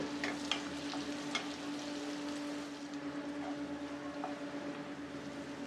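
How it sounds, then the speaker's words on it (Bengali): Chopped onion fries in hot ghee in a pan, a steady close sizzle with a faint hum underneath and a few stirring scrapes early on. "ঘিয়ের মধ্যে এক কাপ পেঁয়াজ কুচি দিয়ে পেঁয়াজটাকে ভেজে নিব"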